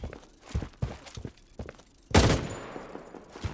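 Gunfire in the shooter game Blood Strike: a string of sharp, separate shots in uneven rhythm with footsteps between them, then one loud, close blast that rings out.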